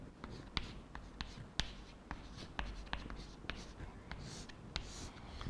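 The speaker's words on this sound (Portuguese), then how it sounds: "tá, vou escrever aqui o nome dele, Tyndall" Marker or chalk writing on a classroom board during a physics lesson, a series of short scratchy strokes and taps in an irregular rhythm, close and fairly quiet, with no talking.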